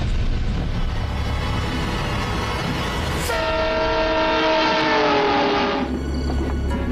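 A train rolls along the rails with a constant heavy rumble and rattle, while a loud, sustained horn blares over it for a few seconds midway.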